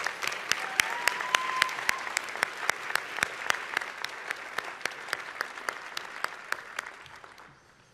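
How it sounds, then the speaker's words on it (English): A room of audience members at a Boys and Girls Clubs event applauds steadily, with sharp individual claps over a dense wash of clapping that thins out and fades toward the end. "Please give them all a round of applause."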